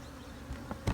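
Honeybees buzz faintly around hive comb in an apiary, a low steady hum with a couple of louder passes close by, lasting about a second.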